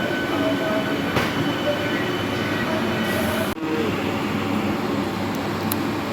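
A local train rolls through a railway station with a steady, loud rumble and rattle of wheels and cars that lasts the whole time, broken by one brief dip.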